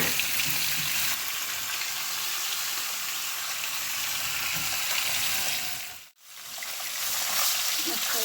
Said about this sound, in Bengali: পেঁয়াজটা ভাজা হয়ে গেছে, এখন মশলা দিয়ে দিচ্ছি। মশলাটা একটু ভাজা ভাজা করবো।